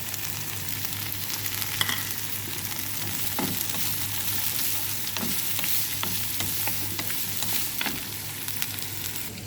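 Steady, close sizzling of chilies tossed into a pan of frying chicken Indomie noodles, with intermittent scraping and stirring clicks over a constant hiss.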